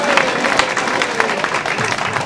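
Steady applause from an audience fills the whole stretch, dense clapping with a few sharper claps standing out.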